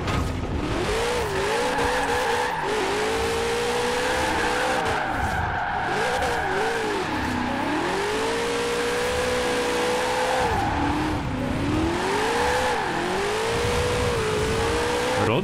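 A Studebaker car drifting in the racing game Forza Horizon 4: a loud, continuous engine drone rising and falling with revs, overlaid by sustained tire squeal and skidding throughout.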